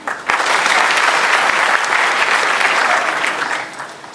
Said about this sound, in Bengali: তোমার তালি দিতে পারো ওর জন্য।